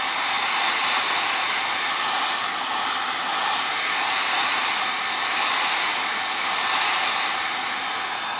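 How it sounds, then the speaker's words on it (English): A hair dryer runs steadily and loudly to dry fresh milk paint on a furniture piece. Its whooshing roar stays continuous and close throughout, with no talking. "I'm gonna get my hair dryer and I'm gonna dry this"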